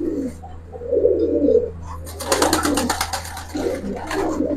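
Giribaz and coloring pigeons coo close by, soft low throaty cooing phrases repeated several times, with a brief burst of flapping or rustling in the middle and a steady low hum underneath.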